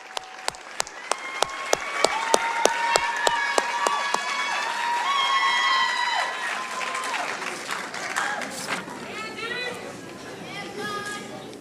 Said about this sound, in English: Ladies and gentlemen, a round of applause, please, for our second team all-conference student athletes.